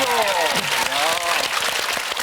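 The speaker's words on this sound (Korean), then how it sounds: "다시 한번 박수로 환영해주시죠" A studio audience on a Korean TV lecture show applauds to welcome two makeup-artist guests, a dense steady clapping under a voice and music.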